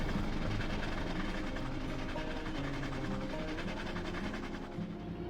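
A goods train rumbles steadily past entering a yard, with a low engine drone and faint rhythmic rattling of wagons, continuous and fairly close throughout.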